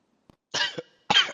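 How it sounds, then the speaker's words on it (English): A person coughs in a quiet room during a roleplay phone call: one small cough, then two loud, close, harsh bursts. "I'm just coughing."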